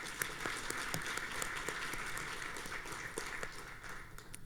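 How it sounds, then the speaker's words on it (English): An audience applauds at a business event for winning organizations, a steady patter of many hands clapping at moderate distance that thins slightly toward the end. "Let's give him a round of applause."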